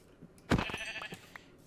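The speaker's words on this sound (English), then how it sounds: "We got some sheep here." A Minecraft sheep gives a loud, wavering bleat up close, followed by a few softer trailing sounds and light game noise, with no speech.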